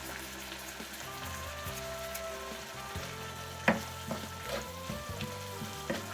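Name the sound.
stirring chicken moambe sauce in a pot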